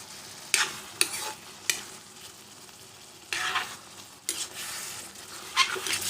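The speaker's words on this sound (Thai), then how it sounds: "เคี่ยวข้าวซอยครับผมเครื่องปรุงนั่นเอง" Khao soi seasoning paste simmering in a pan and stirred, a quiet bubbling sizzle broken by several sharp, close utensil scrapes and clanks at irregular intervals, no talk.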